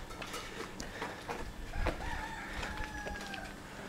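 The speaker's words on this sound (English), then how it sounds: "And the rooster." A rooster crows faintly in the distance over a steady outdoor background hiss in Kuala Perlis, Malaysia, with a few scattered clucks and chirps.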